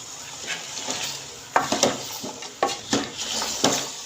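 A spoon scrapes and knocks against a pot while turnips and peas are stirred together, giving several uneven clacks and scrapes over a soft background hiss, with no talk.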